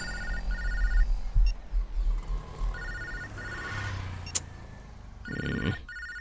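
A telephone rings in three repeated bursts of an electronic bell tone with short pauses between them, over faint background rumble and a car-like passing noise, with no talk.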